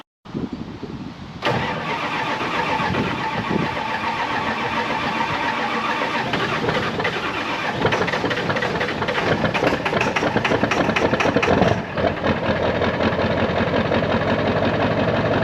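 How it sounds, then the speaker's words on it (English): A Ford 7.3 Powerstroke diesel truck cranks and fires, then settles into a loud, steady, clattering idle heard up close for over ten seconds, with no talking. "The switch over gauge looks good, and then I'll start it up for you."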